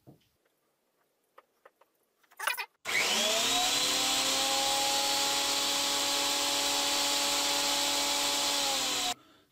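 A Scheppach thickness planer, freshly repaired after a belt problem, starts up with a loud burst and then runs steadily with a high whine and rich motor hum, continuous and close, until it is switched off at the end.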